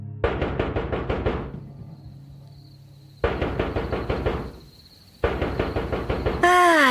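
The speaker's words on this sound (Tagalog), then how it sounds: "dahil may biglang kumatok sa gate" Sudden knocking on a gate, loud repeated rapid bursts of raps in three clusters separated by pauses, with a faint steady hum between them and no talk.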